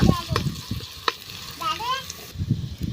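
Onion paste fries in a clay pot, sizzling near and moderately loud while a utensil stirs and scrapes it in short strokes, with a brief bird-like chirp in the middle and no speech.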